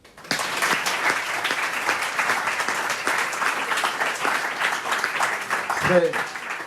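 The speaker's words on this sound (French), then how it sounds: "Mais ces 10 jeux ne déméritent pas, alors on les applaudit." Audience applause at an awards ceremony for finalists of the 40th Boulogne-Billancourt contest, steady and sustained clapping across the whole stretch, with a brief voice near the end.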